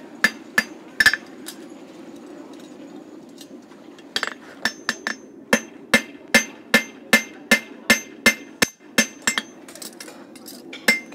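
A farrier's ball-peen hammer strikes a horseshoe in a quick series of sharp metallic rings, sparse at first and then falling into a steady, even rhythm, up close with no speech.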